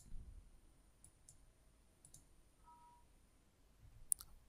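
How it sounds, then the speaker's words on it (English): A few faint, soft computer mouse clicks, spaced apart in a quiet room, as a program is opened on a Windows computer. "now I'm gonna open this file and click here to imagej.exe."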